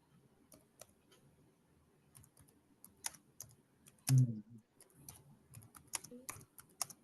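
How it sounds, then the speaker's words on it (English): Scattered keyboard typing from participants on a video call, light irregular clicks and taps in quick bursts with one louder thump midway, fairly close and faint, no talking. "Some people are typing"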